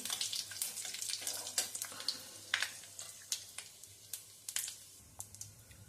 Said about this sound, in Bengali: আমি দিলাম 5 ফোড়ন, শুকনো লঙ্কা, তেজপাতা